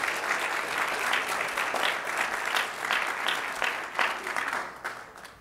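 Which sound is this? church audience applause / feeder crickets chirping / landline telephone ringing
church audience applause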